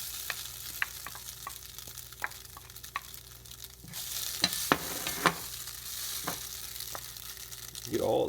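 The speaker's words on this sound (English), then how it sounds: "So I'm going to actually throw my sausage back in now." Vegan sausage and onions frying in a pan, a soft steady sizzle broken by sharp utensil clicks and taps, growing louder and busier partway through.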